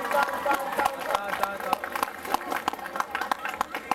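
Audience applause for singers at a summer singing contest final, a burst of scattered hand claps with crowd murmur, close and lively, under talk and background music.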